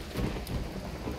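Steady rain with a thunderstorm rumbling in the game Risen 2, a dense, continuous wash of low rumble and hiss filling the whole moment, with no voices.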